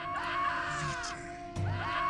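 Screams from barbarians in the video game Dungeon Keeper: two drawn-out, wavering high cries, one after the other, fairly quiet and heard on their own with no talking.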